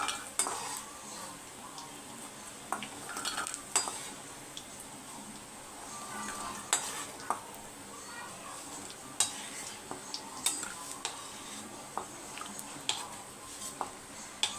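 Steady crackling sizzle of papad frying in hot oil, with occasional clinks of a utensil against the pan, no talking.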